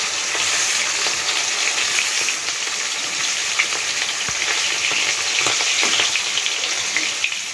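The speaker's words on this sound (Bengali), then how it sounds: "বড় মাছটাকে ভাজা হচ্ছে এবার।" A large fish frying in hot oil gives off a steady, dense sizzle that hisses without pause from start to finish, with small pops and crackles scattered through it and no voices.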